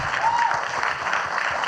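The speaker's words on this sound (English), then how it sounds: "round of applause" A studio audience bursts into a short, steady round of applause, dense and fairly close, sustained evenly with no talking over it.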